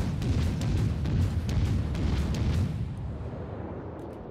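Naval gunfire from warships in the video game World of Warships, a rapid series of heavy booming salvos with rolling low rumble, loud and dense at first, then tailing off into a fading roar.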